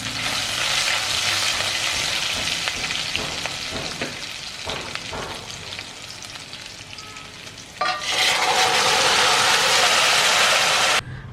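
Cooked orange pachadi drops into a sizzling tempering pan, loud spitting and crackling that dips, then flares up again sharply near the end before cutting off.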